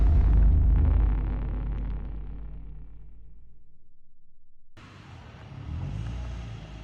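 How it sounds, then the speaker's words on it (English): A BMW E46 driving into an MOT centre, its engine rumble loud and close at first, fading away into near silence, then a second burst of vehicle rumble and ambient noise. "There it is, BMW going in for the MOT."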